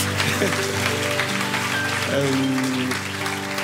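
Audience applause at a Christmas concert, a steady wash of clapping from a crowd throughout, with a voice speaking over it.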